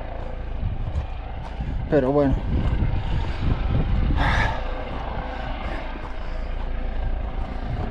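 A helicopter flies over a mountain ultramarathon course near Ribes de Freser, its rotor drone a steady, fairly distant rumble under wind and a runner's brief talk.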